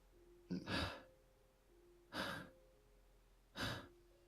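A voice imitates panting, three heavy breathy exhalations spaced about one and a half seconds apart, close and fairly quiet, over a faint steady background hum.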